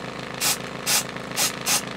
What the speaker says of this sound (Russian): Это восковой спрей.